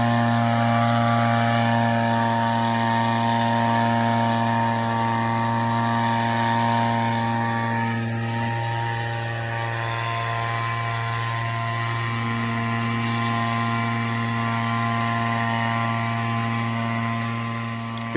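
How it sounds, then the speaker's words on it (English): A 30-year-old Echo leaf blower with a new carburetor and ignition coil runs at a steady, loud idle. The small two-stroke engine hums evenly and continuously throughout, with only slight wavering in level. "Here's a 30-year-old blower being reused. Changed the ignition coil on it and put a new carburetor. So running it looks good."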